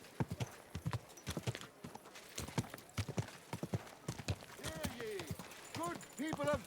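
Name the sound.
horse hooves clip-clop in video game Kingdom Come Deliverance 2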